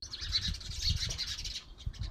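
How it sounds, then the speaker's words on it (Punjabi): Faint, busy chirping of sparrows, many overlapping tweets in a continuous chatter with low rumbling noise underneath. "ਸਾਡੀਆਂ ਚਿੜੀਆਂ ਚ ਚੀ ਚੀ ਕਰਦੀਆਂ"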